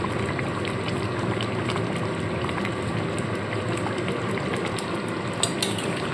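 Potol chingri being stirred with garam masala in a frying pan, a continuous sizzle with scraping and light clinks of a utensil against the pan, close and steady, with no talking.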